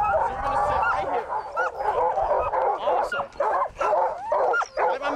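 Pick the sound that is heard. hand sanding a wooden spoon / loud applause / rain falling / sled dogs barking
sled dogs barking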